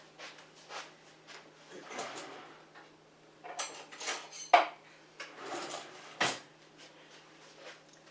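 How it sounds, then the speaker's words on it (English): Rummaging for a small knife to cut blueberry muffins: clinking cutlery and pots, a drawer sliding, and a couple of sharp metallic knocks, close and intermittent in a quiet kitchen. "I'm going to get a little knife here."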